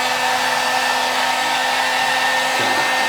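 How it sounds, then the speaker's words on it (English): Steady, loud blowing roar of a heat gun running continuously while heating a GM climate control panel, with a slight shift in pitch near the end. "I use a heat gun. You can use a hair dryer or a heat gun if you have it."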